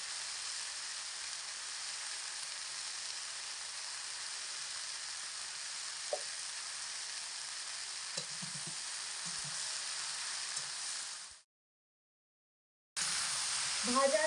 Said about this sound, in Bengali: ভাজাটা ঘন ঘন নাড়াচাড়া করে হাই টু মিডিয়াম আছে একটু ভেজে নিয়েছি